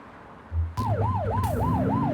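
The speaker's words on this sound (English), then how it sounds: "You're only meant to use the siren in emergencies." A police car siren in a video game wails in a rising and falling pattern, loud and close over a low engine drone, starting abruptly after a short thump.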